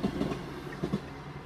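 Train drawing near Wyberton level crossing in Lincolnshire, heard from a car as a faint low rumble with a few soft rhythmic wheel clicks.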